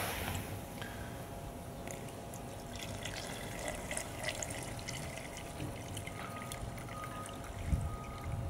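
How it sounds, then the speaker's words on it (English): Water fills a gigantic laboratory beaker with a steady, faint, continuous rushing and trickling and no talk. "Now I'm going to take this gigantic beaker to fill in some water."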